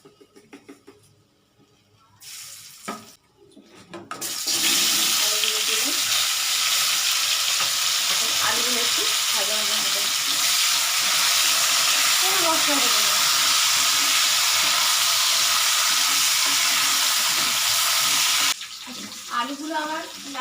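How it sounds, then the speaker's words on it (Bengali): Potatoes sprinkled with salt fry in a hot wok, setting off a loud, close, sustained sizzle that starts a few seconds in and stops abruptly near the end, with scattered soft kitchen clatter around it. "এবার যে আলুগুলো আছে আলুগুলো আমি কড়াইতে দেবো দুটো আলু নিয়েছি আমি একটু কড়াইতে নুন দিয়ে দিচ্ছি"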